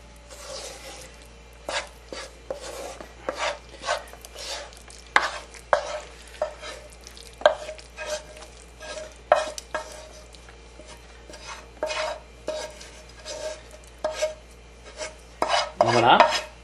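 A vegetable mixture scraped and stirred into rice in a pan, a spoon rasping and clicking against the metal in irregular strokes, close and fairly quiet, with one louder scrape near the end.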